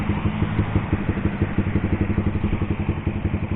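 A GPR 250 Explorer motorcycle engine putters with a low, steady rhythmic chug while riding through floodwater, fairly close and continuous.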